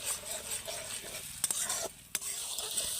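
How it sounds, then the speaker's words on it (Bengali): Spice paste for a spinach and potato curry is stirred and fried in a pan with a little water, giving a steady close sizzle with scraping spoon strokes and a couple of sharp clinks. "এবার মশলাটা ভালো করে কষিয়ে নেব"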